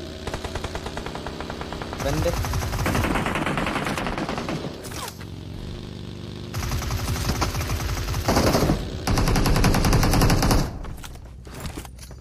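Rapid machine-gun bursts in a shooting video game, loud repeated volleys separated by short pauses, with a voice talking underneath.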